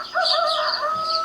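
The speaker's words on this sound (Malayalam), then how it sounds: "കോഴി കൂകുന്നത് കേട്ടാണ് ഞാൻ ഉണർന്നത്." A rooster crows in a sustained, loud call close by, with no talk over it, heard at dawn in a staged drama.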